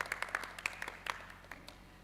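Scattered, fairly faint audience applause for a pharmacy summer-course presentation, uneven claps rising and thinning over about two seconds with no talk.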